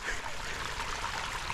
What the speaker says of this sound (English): You can see the water beating off it, and the water isn't holding in the leather.